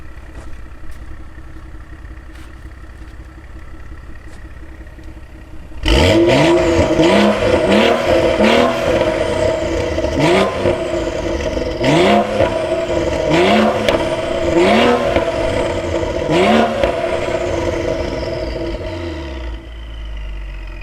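A BMW N55 engine idles from outside the car, then its exhaust bursts into loud, repeated revving at close range, about eight rising blips with crackle between them, settling back toward idle at the end.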